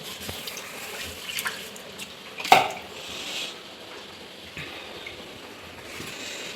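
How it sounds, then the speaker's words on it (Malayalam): Items are rinsed under a running kitchen tap into the sink, a continuous moderate splash of water with a brief louder clatter partway through; no speech. "ഇതും കൂടെ അങ്ങോട്ട് കഴുകി വിടാങ്ങി അത്ര സാധനം ക്ലീനാകും"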